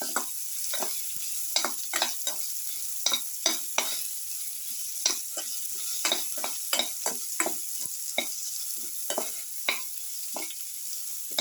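Tomatoes fry in a pan for a cumin potato yogurt dish, and a spoon scrapes and stirs them in short irregular strokes over a constant sizzle, close up and alone.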